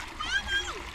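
Water splashes briefly through a paddy field channel, a short wet rush heard close by while children's voices chatter over it.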